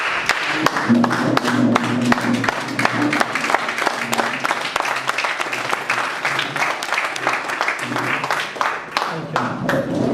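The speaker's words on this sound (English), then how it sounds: "May I request all of you to give a round of applause, standing applause" An audience at a Toastmasters club meeting gives a standing ovation: dense, steady clapping from many hands, unbroken for about ten seconds.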